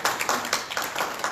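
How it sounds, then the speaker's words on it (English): Brief applause from the audience at a community ward forum, a short run of close, uneven claps from a small gathering. "Give yourselves a round of applause."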